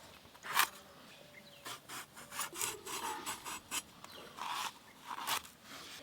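Tender, garden-grown ridge gourd has its skin scraped off with a blade in a rural kitchen, making short, close, rhythmic rasping strokes in quick bursts with small pauses between them.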